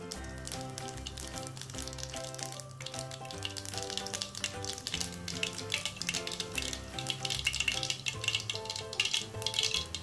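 Mustard seeds, a couple of fenugreek seeds and a little cumin crackle and sizzle in hot sesame oil, a steady frying hiss with small pops, playing under background music.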